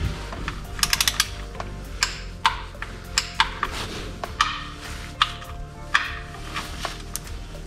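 A torque wrench ratchets on the oil drain plug of a 1999 BMW 328i E46, giving a series of sharp, close metallic clicks in uneven bursts, with no talking.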